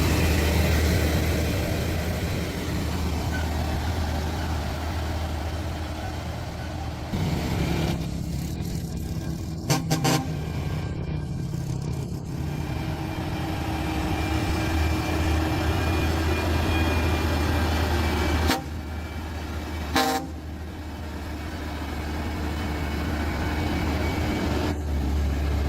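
A 50-ton mega truck grinds along the Hyvan mountain pass with a steady, heavy low engine drone and rolling road rumble, fairly close, with a few brief clanks and shifts in the noise.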